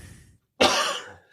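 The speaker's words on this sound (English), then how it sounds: "I got a cough." A single sharp cough bursts out close to the microphone after a brief silence, a harsh rasping blast that quickly fades.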